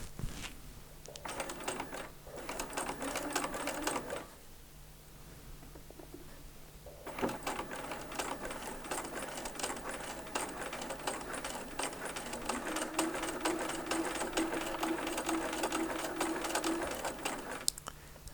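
A sewing machine stitches a fabric diamond onto a triangle along two bias edges, its needle running in a steady rapid whir with a short pause partway through, close and alone.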